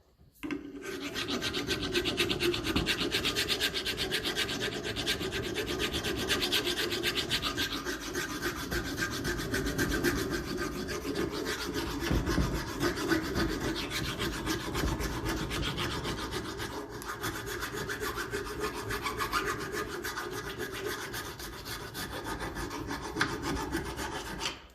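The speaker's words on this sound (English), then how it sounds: "a nice even skim off the whole lot there, get that pitted rust off right in there at the very bottom" Continuous close scraping and rasping as pitted rust is skimmed off a part of a 1954 Ferguson 20 TEF diesel tractor, a dense, even abrasive grind with no voices.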